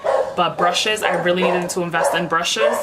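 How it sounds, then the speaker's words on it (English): A dog barks repeatedly in the background while someone talks continuously over it. "I'm sorry about the barking."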